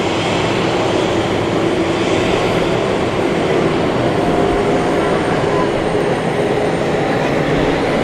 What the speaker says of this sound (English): There she is. Beautiful A340. This is the Shanghai flight.